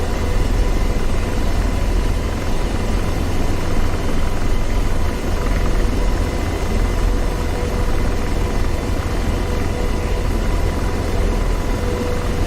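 Helicopter in the flight simulator game DCS World, heard from the cockpit; a loud, constant rotor and turbine drone with steady low thumping that holds level throughout, no voices.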